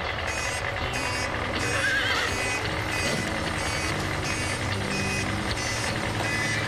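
Thoroughbred racehorses whinny at a racetrack in an animated children's show, loud neighs mixed with clip-clopping hooves, truck engine noise and repeated reversing beeps throughout.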